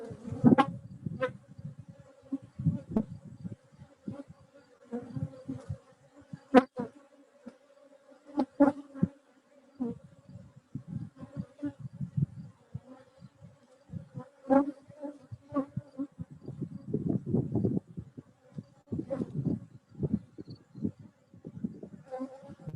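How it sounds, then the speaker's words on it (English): Honeybees swarm around a hive in an outdoor hive check, making a continuous buzzing drone that rises and falls as bees fly close past. "even though there's all these bees swarming around us, we're totally safe"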